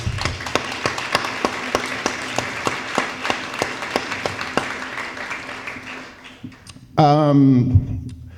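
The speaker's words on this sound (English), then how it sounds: "have everybody give a round of applause to all the sponsors" A small crowd at a chamber of commerce banquet claps steadily and briskly, with sharp hand claps standing out, gradually thinning before a voice begins speaking near the end.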